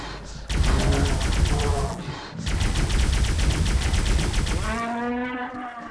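Rapid bursts of automatic gunfire in Aliens vs Predator 2: Primal Hunt, two long strings of fast shots separated by a brief pause, loud and close.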